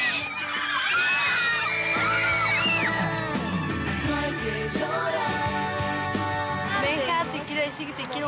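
Fans at a film shoot for a band scream and yell loudly in a dense, high-pitched crowd chorus, with individual shouts piercing through close by.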